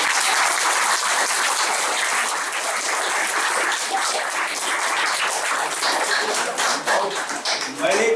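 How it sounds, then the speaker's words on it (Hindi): At a farewell party for a senior accounts officer, a crowd claps in a loud, sustained burst, thick and even throughout, with a few stray individual claps standing out near the end. "एक जोरदार ताली आप बजाएं इसके लिए"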